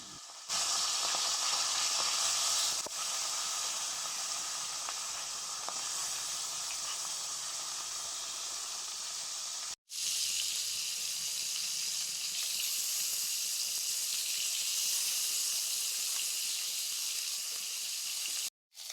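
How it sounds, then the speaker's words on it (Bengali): Fish heads fry in hot mustard oil in a kadai, a continuous, bright sizzling hiss up close that cuts out briefly twice before resuming at the same level. "এবার আমি মাছের মাথাগুলো ভেজে নিচ্ছি।"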